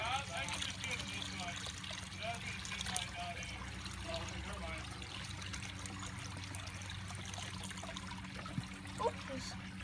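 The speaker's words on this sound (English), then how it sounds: "slowly dump the pollywogs into the water hammock" Water with tadpoles slowly poured into a water hammock outdoors, a soft trickling and dribbling that runs steadily under ambient noise, with a few brief louder splashes near the end.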